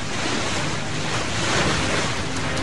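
Storm-driven tidal waves off southwestern Long Island roar as a steady, dense wash of surf mixed with wind noise, loud and unbroken, with no voices.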